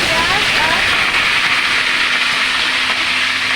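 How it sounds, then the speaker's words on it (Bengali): Chopped onion and capsicum, added after minced garlic, fry in a pan while making chilli chicken, giving a loud, steady, close sizzling hiss that runs unbroken throughout. "ক্যাপসিকাম দুটো একসাথে দিয়ে দিলাম ভাজতে।"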